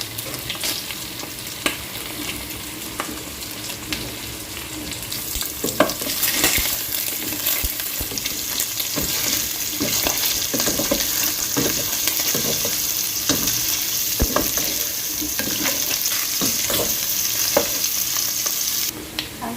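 Chopped onions fry in a little oil in a pan while beef is being cooked, a steady close sizzle broken by repeated scraping stirs of a utensil, with no talk over it.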